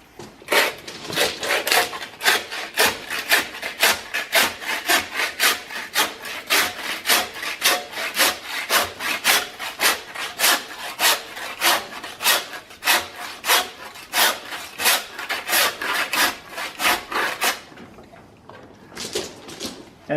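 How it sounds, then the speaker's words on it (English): A handsaw rasps back and forth through a sheep carcass's backbone in rapid, even strokes, loud and close, continuing for a long stretch before a brief pause and resumption. "take the neck off before you do the sawing down the back"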